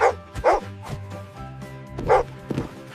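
A dog gives a few short barks and yips among cheerful background music, the barks loud and close with brief gaps between them.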